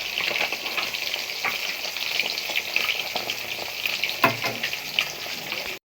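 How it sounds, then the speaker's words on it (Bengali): Fish frying in hot oil in a wok, a dense crackling sizzle that runs steadily throughout, with a few louder spits and a clank near the end, no voices. "এইভাবে আমি প্রত্যেকটা মাছকে কিন্তু সুন্দরভাবে ভেজে ফেলবো"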